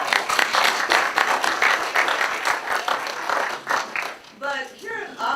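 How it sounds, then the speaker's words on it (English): Audience applause for entrepreneurs at a business event, a room of hands clapping in a rhythmic, moderately loud patter that tapers off as a voice starts speaking. "So for all the entrepreneurs in the room, I want to give you a round of applause."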